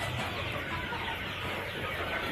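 Chickens cluck on a poultry farm where they are raised and fed, a soft, steady background of overlapping fowl noises with no voices.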